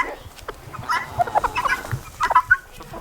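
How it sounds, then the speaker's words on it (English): Farm chickens clucking near feeding time, with irregular bursts of close, busy clucks and squawks from a flock over low background noise. "These are chickens that can tell time. And they know it's almost feeding time."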